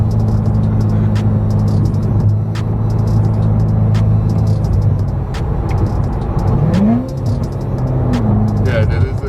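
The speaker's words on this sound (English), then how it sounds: "this car sounds so nasty" A C7 Corvette sports car's engine growls and revs loudly with deep rumbling and a rising whine, while people talk over it.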